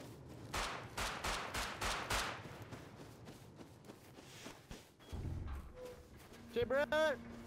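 Rapid bursts of video game gunfire, a quick series of loud shots in the first two seconds followed by scattered thuds and game effects, with some speech-like sound near the end.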